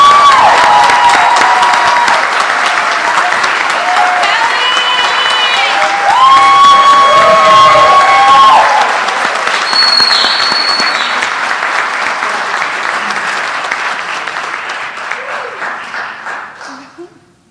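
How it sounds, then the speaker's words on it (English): A gala audience at the 2024 Ms. Wheelchair America crowning claps and cheers loudly for a Hope and Freedom Award recipient. Whoops and shouts rise over the clapping, which holds steady and then gradually fades away. "I love the way we clap not only for our own states"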